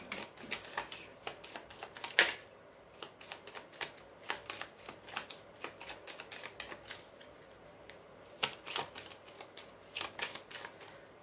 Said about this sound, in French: je vais les remettre parce qu'il faut bien que je mélange les cartes